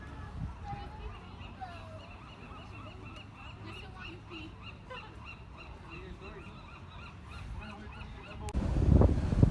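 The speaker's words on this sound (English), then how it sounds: "Respect the birds out here." Seabirds call repeatedly across a seabird sanctuary on Alcatraz Island, a dense chorus of honking cries at moderate distance over steady outdoor ambience, with a louder rumbling burst at the end.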